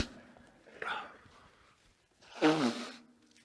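A single sneeze bursts out partway through a church sermon, loud and close, with a fainter breathy sound just before it.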